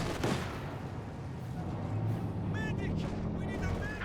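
Scattered gunfire and distant blasts strike conscript infantry in a Company of Heroes 2 battle, sitting low under a commentator's talk.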